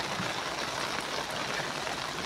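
Heavy storm rain pours onto a river where fishing nets are being cast, a dense, constant hiss of falling water with no breaks, loud and enveloping.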